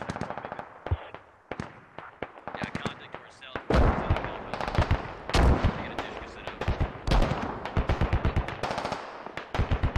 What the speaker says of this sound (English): HMG engaging